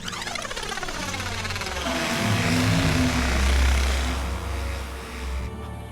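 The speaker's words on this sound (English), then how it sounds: "a mechanical pod flashing and whirring as it works" A mechanical pod aboard a ship whirs steadily in an audio drama effect, a loud continuous machine drone with a high rising-and-falling whine layered over a deep hum, swelling slightly midway.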